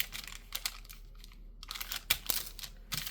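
Paper scraps with staple holes are folded up into a pocket, producing soft, close crinkles and light papery taps in short irregular bursts.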